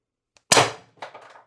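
A single sharp crack from a CO2 airgun firing a 7.3 gram solid aluminum round, quick and close, followed by a brief clattering rattle of impact and mechanism.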